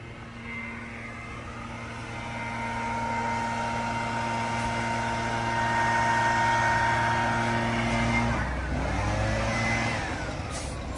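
Ford F150 truck stuck in a ditch holds a steady engine drone that climbs as the revs build, a tonal whine rising with it, then drops and shifts after about eight seconds as the tires spin.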